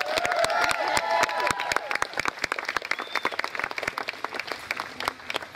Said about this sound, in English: So let's give Andrea and Maddie another round of applause for sharing their story.